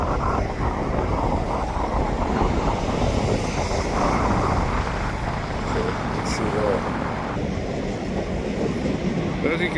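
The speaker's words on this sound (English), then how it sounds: "As you can see, the train's backing up now, so pushing the whole train back into the yards." A freight train backs up, pushing its cars into a rail yard, with a steady, heavy rumble that holds for the whole stretch, mixed with gusting wind on the microphone.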